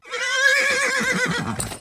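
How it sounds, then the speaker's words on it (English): A wild stallion neighs in a radio ad, one loud, close whinny that rises and wavers, then breaks into shaky fluttering before it fades. "Is that a horse? Actually, it's a wild stallion."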